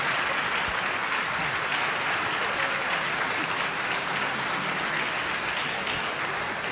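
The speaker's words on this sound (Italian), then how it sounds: "Quindi l'applauso se lo meritano tutti." A festival audience gives sustained, dense applause that sounds like steady rain, holding at an even level throughout without a pause.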